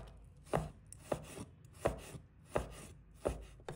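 A knife slices pork belly on a cutting board in about five evenly spaced firm chops, each a sharp thud with a crisp edge, close up and alone with no talk.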